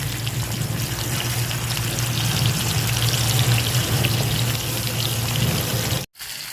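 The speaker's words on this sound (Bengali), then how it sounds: "তো আমার তেলও গরম হয়ে গেছে পাতিলার দিয়ে দিব মাছের মাথা" Fish head frying in hot oil in a cooking pot, a steady, loud, close crackling sizzle that continues unbroken before cutting off abruptly near the end.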